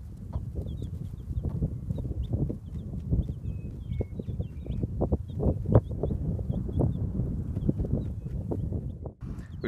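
A broody hen forages outdoors with her chicks on scattered feed, giving soft low clucks in a steady irregular stream, with faint higher chick peeps scattered above and no talking.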